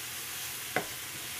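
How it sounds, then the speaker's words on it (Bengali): Grated coconut fries in a pan over low gas with a soft, steady sizzle, broken once by a brief scrape of a stirring utensil. "নারকোল ভাজা আমার হয়ে গেছে"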